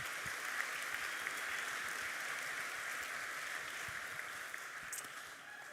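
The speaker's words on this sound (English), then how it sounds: "Can I get another round of applause, please, for Orion Health?" A round of applause for Orion Health at the 2023 NZ Hi-Tech Awards, steady even clapping from a large audience, heard at a distance and fairly faint, with no talking.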